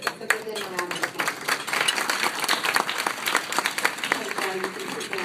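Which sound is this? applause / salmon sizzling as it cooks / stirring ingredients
applause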